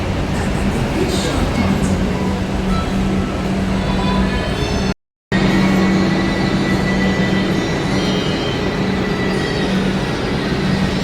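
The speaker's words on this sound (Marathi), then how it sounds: "इथं थोड्याच वेळात आपली ट्रेन येईल आणि ही आपली ट्रेन आली होती" A metro train rumbles in with a steady roar and humming motor tones, wheels running along the rails, with a brief gap partway through.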